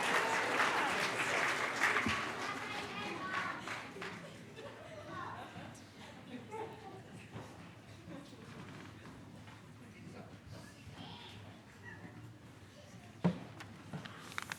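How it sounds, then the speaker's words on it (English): A short burst of applause at a Sunday morning worship service fades into murmuring chatter and scattered low voices, with a few knocks near the end. "Can we give Cabri a round of applause?"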